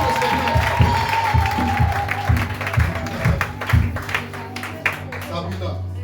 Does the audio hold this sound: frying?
no